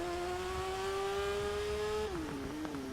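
Engine note from a large-displacement motorcycle in the TT Isle of Man racing game, a steady loud drone that drops in pitch as it downshifts to first and brakes in a straight line approaching a hairpin.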